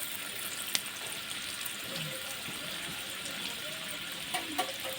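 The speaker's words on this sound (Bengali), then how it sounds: "আলুগুলোকে একটু নিয়ে দেবো ভালো করে তেলের মধ্যে দিয়ে দেবো" Cut potatoes frying in hot oil in a pan, giving a soft, steady sizzle with a few faint clicks and stirring sounds throughout.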